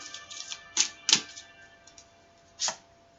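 Tarot cards pulled from a deck and laid down, heard as a few quiet, short, crisp slaps and taps spaced apart, with no voices.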